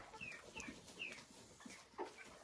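A hen in a farm enclosure clucks after laying an egg, a faint series of short, uneven clucks and squawks with a louder call near the end, heard alone without talk.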